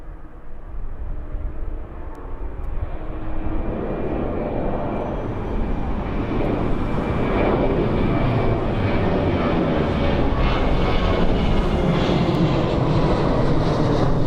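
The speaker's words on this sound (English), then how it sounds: "There we go, touch and go." A training aircraft doing a touch and go at East Midlands Airport, its engine roar steady and fairly loud throughout, building slightly with a broad rushing tone and no voices over it.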